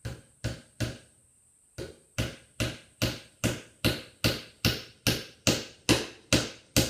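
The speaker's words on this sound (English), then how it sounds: "my hammering is going to knock this nice and tight" Sharp hammer blows drive nails into bee box timber one after another in a steady rhythm, about fourteen loud knocks, close by, with a short pause near the start.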